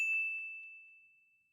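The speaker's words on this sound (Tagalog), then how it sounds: "hit the notification bell" A notification bell rings once with a bright, clean ding that rings on and fades away smoothly over about a second and a half, alone and with no voices.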